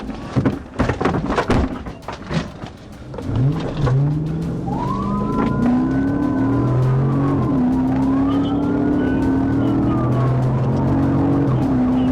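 A police car on a high-speed chase races past with its siren wailing in rising and falling sweeps over a roaring engine, preceded by sharp bangs and a tyre skid, loud and close throughout.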